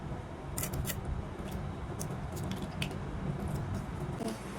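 Scissors snip through shrimp being prepared for a red spinach dish, giving a series of sharp, irregular cuts close by over a low background hiss.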